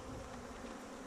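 A faint, steady buzzing hum of many honeybees flying nearby during acacia honey extraction, continuous and without voices.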